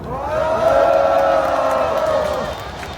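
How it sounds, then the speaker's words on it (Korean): A crowd at an outdoor rally against a presidential impeachment in Gwanghwamun swells into cheering and applause, a broad sustained roar of many voices with tonal shouts rising and fading over a few seconds. "큰 박수 주세요"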